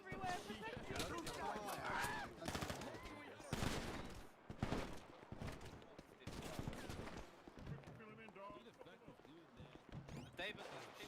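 Bursts of rapid gunfire in GTA 5 roleplay, close and chaotic, with rattling volleys mixed under frantic, overlapping voices.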